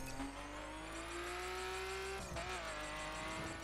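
A fast car engine in The Crew racing game holds a steady, slowly rising drone at speed, with a brief shift or tire scrub midway, alone and moderately quiet.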